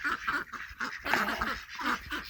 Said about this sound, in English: Batman, will you leave the ducks alone?